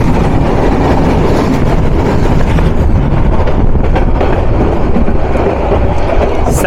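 Train 758 Town Drutojan Express passing at speed on a double-line crossing in Bangladesh, a loud close roar of wheels and carriages rattling steadily throughout.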